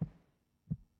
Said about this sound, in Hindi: धड़कन की आवाज सुन रही है?